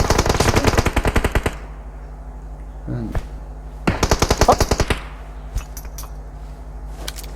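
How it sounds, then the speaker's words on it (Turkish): Rapid automatic gunfire bursts from the video game PUBG Mobile, two loud volleys with scattered single shots between, alongside faint game sounds and brief voices. "Biri yukarıdan sıktı ha."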